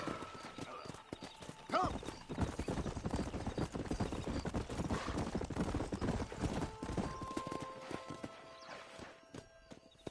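Horse hooves clopping at a gallop in the Red Dead Redemption video game, a steady rapid rhythm close up with a brief whinny, and a voice calls out once over the hoofbeats.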